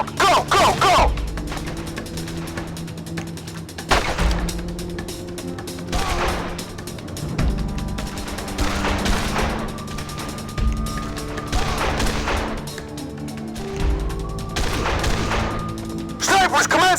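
Volleys of sniper gunfire in the video game Made Man, with sharp cracks and booms recurring every couple of seconds over a rumbling battle background, plus occasional whistling tones.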